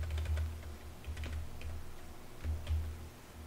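Rapid clicking of computer keyboard keys as JavaScript code is typed, in steady irregular bursts close up, with a low hum underneath and no talking.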